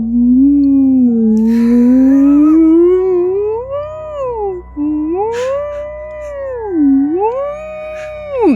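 A human voice imitates a psychic whale song: long, wavering howl-like tones that rise in pitch, dip and swoop upward again in repeated siren-like arcs, sung loud and close with no other sound.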